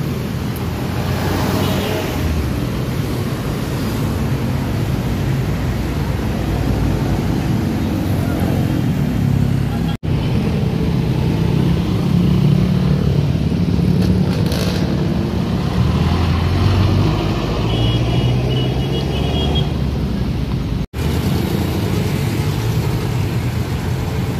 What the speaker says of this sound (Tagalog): marami na pong sasakyan na pauwi, papunta po ng Fairview po